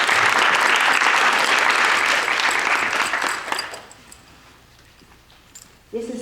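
A graduation ceremony audience applauds loudly, sustained clapping that tapers off and dies away midway, leaving quiet room tone before a voice briefly starts.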